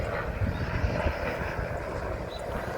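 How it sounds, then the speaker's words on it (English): A helicopter flying out to spray fungicide over farm crops during a drought, its engine and rotor producing a steady low rumbling drone at a moderate distance, with some wind buffeting. "There was a helicopter going to spray some fungicide"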